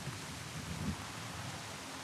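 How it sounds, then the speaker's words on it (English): Steady rain in the video game Far Cry 6, a continuous soft broadband hiss with a low rumbling bed, even in level throughout and with no voices. "Well, it's just raining."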